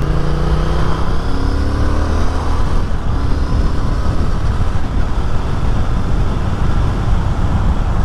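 Triumph motorcycle, a Bonneville T120 twin, being ridden, a loud continuous engine drone mixed with heavy wind rush throughout, with no talk.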